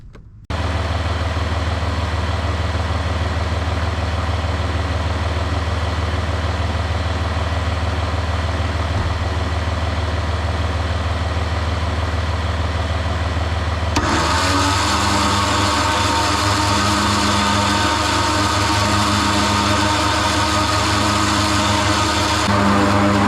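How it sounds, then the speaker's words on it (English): A 2021 Jeep Wrangler EcoDiesel idles steadily with a deep, constant hum, loud and close; partway through the tone shifts as another load kicks in and a faint pulsing whine joins the drone. "You got to keep the engine running while you're using it."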